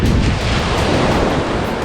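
Ocean waves and gusty wind on a windy day in Amed: a constant, loud rumbling roar, with heavy wind buffeting the microphone and no clear breaks between surges.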